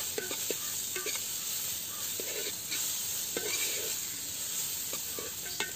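Chopped onions sizzling in a pan for a village-style chicken gravy while a spoon stirs them, a steady hiss broken by repeated soft scraping strokes, close and moderately loud.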